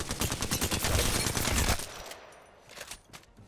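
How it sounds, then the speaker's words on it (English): Alternator submachine gun in Apex Legends fires a fast, steady burst that lasts nearly two seconds, then stops and leaves a quieter tail of scattered distant shots. "we got the alternator, which I think is the most slept on gun in the game"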